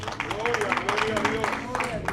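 A church congregation claps in rhythmic bursts for a welcomed brother while a voice talks over it; moderate, fairly close clapping beneath the speech.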